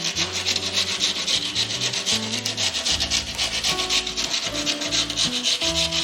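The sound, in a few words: sanding wood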